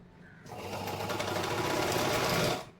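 A sewing machine stitches a blouse seam in one continuous burst of rapid, close mechanical whirring lasting a little over two seconds, with a brief quiet moment before and after.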